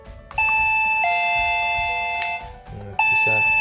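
The doorbell on an RFID 13.56 MHz access control unit with ID card and PIN entry sounds a loud electronic chime, holding a tone, breaking off, then ringing again, with faint clicks and low voices nearby.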